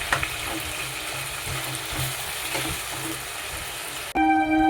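Chopped tomato and chicken with a little salt fry in a pan, giving a steady, close sizzle with faint stirring scrapes that cuts off abruptly near the end into a different tonal sound.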